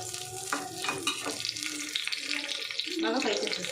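Green chillies fry in hot oil for a creamy chicken gravy, giving a steady crackling sizzle with scattered pops and light stirring, close and continuous throughout.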